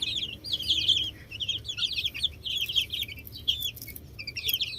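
Young chicks peep high and busy in rapid, continuous bursts, fairly close and moderately loud, with no talk over them.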